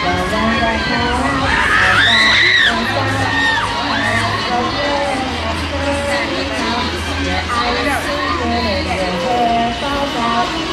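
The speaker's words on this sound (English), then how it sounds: "Somebody scream!" A large crowd shrieks and cheers aboard The Joker 360 flat ride at the EKKA 2024 show, a loud burst of screams early on settling into sustained yelling and cheering over a low mechanical rumble.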